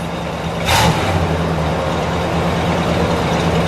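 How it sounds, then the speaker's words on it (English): A 1967 Buick GS 400 convertible's engine rumbles up close; a brief loud rev bursts out near the start, then settles back into a steady low idle. "Give it one more rev."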